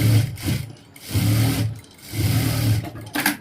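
A sewing machine stitches a seam on trousers in three rapid whirring bursts separated by brief pauses, close and clear, with no talking.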